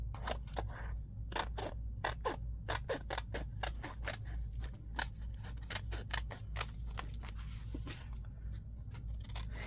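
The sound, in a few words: scissors trimming paper for a junk journal wallet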